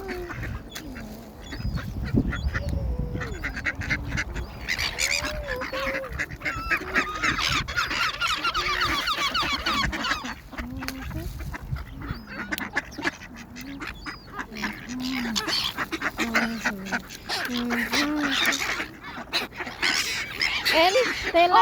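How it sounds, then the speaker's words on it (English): Ducks and seagulls squabble over thrown bread, with steady quacking, honking and gull calls crowding close by throughout, busy and overlapping at a fairly loud level. "she feeds the ducks and the seagulls."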